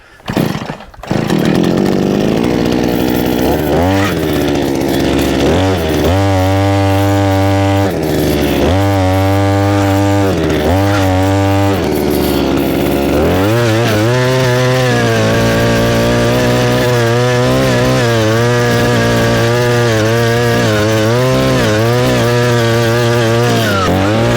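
An ECO gas-powered earth auger sputters to life and then runs loudly and steadily while drilling a mailbox post hole, its two-stroke engine revving up and down repeatedly as it bores into the ground.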